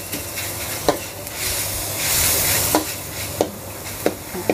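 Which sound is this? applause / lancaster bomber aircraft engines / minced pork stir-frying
minced pork stir-frying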